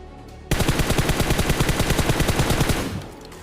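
Automatic gunfire in the mobile game PUBG Mobile rattles out as a fast, even burst of about twenty loud shots after a short quiet lead-in, then cuts off abruptly.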